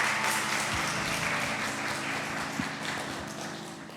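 A church congregation at an Air Force base service applauds together, a steady soft wash of many hands clapping, fairly distant and even, with a few sharper individual claps standing out.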